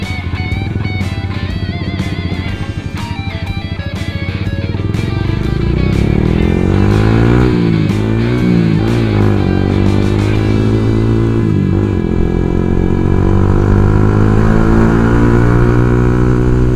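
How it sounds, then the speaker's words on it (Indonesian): Yamaha R15 v2 motorcycle fitted with a Leovince racing exhaust, revved hard at close range with sharp throttle blips first, then a loud, sustained high-rpm rasp that swells and falls across repeated revs. "kali ini gue akan mereview sebuah knalpot Leovins,"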